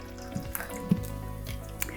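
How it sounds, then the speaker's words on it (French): Tap water and mineral water dripping and trickling into a container, with a few small splashes and plops over a steady low hum. "on va verser toutes ces eaux différentes"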